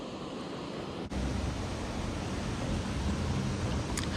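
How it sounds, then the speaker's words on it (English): Floodwater pours off a flooded area in Texas as a constant broadband rush, close and even, with a brief dip in the flow early on. "I think y'all should be able to hear that. That's all water running off."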